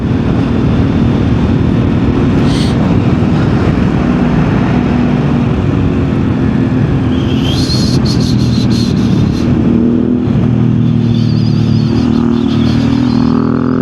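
A group of motorcycles rides past at close range, their engines roaring loud and steady with a rushing, revving drone that swells and shifts throughout, with no voices over it.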